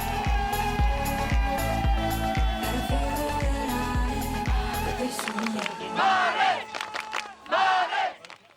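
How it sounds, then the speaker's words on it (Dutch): A crowd cheers and roars loudly at an Olympic sailing silver medal moment. Rhythmic chanting and whooping come first, then the noise breaks into scattered shouts and surging cheers. "Ja, het publiek is blij."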